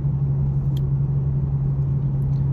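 A 3.7-liter V6 Ford Mustang engine pulls in fifth gear, a steady low, droning hum with a constant rumble from start to finish and no other sounds on top.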